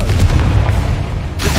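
A Bombarda or Confringo explosion spell goes off in Hogwarts Legacy, a loud, sustained booming blast with heavy low rumble that fills the whole moment and ends in a brief hissing burst.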